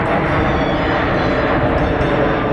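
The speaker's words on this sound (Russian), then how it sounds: "проход для приветствия, покачивания крылом. Суперджет приветствует всех гостей и участников авиасалона «МАКС»" A Sukhoi Superjet 100 airliner makes a low greeting flypast at the MAKS 2019 air show, a loud, steady broadband jet roar filling the whole stretch without talk.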